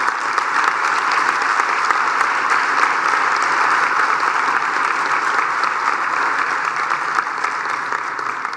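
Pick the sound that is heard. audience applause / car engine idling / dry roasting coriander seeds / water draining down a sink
audience applause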